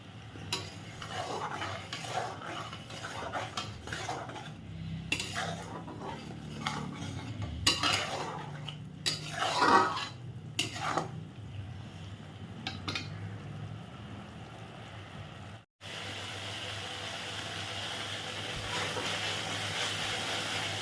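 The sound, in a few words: spice paste with yogurt being stirred and cooked in a pan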